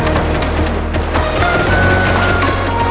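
Rapid gunfire erupts during a Rust firefight on a rooftop, with loud, dense bursts of shots and thuds that pile up continuously, close and overpowering throughout.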